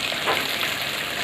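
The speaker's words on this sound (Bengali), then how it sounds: "মাছ ভাজা হচ্ছে এখানে" Fish frying in a pan gives off a steady, dense sizzle, close and constant with no pauses or voices.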